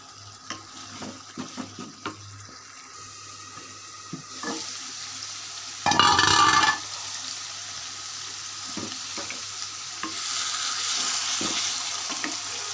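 A loud burst of hissing sizzle erupts as poa fish hits hot oil and spiced paste, lasting about a second, amid quieter kitchen clatter and a steady frying hiss.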